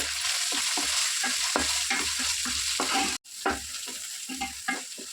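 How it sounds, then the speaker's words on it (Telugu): Ginger paste, curry leaves, turmeric and onions fry in a pan for a mango, brinjal and fish curry. A busy close sizzle mixes with rhythmic scraping strokes of stirring and a brief cut near the middle. "అల్లం పేస్ట్, కరివేపాకు, పసుపు, ఉల్లిగడ్డలు ఇట్లా వేపేసుకోవాలి"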